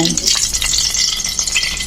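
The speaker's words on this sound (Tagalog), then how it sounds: "kumukulo itong mantika na to" Hot cooking oil for pork kaldereta bubbling and sizzling steadily in a pan, a continuous close crackle with faint stirring and no talk.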